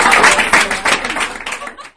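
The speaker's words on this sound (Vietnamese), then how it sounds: "Quý vị và các bạn hãy cùng vang lên một tràng pháo tay nữa thật lớn để trân trọng cảm ơn." Wedding guests at a Vietnamese wedding reception give a loud, dense round of applause that fills the clip, then tapers off toward the end, with some voices mixed in.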